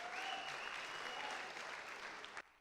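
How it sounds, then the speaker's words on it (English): An audience at a charity cabaret performance claps in a steady, dense burst of applause that stays loud throughout and then cuts off abruptly. "Round of applause."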